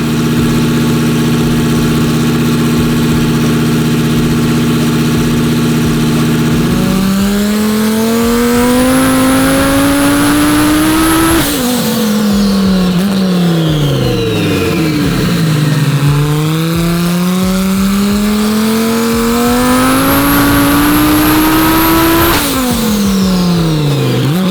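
A twin turbo Lamborghini Huracan Evo engine at 30 pounds of boost idles loudly on a dyno, then twice climbs through long, rising revving pulls, each cut off abruptly before dropping back, very loud and close with no talk.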